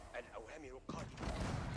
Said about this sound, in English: The cannons getting through another one of the keeps.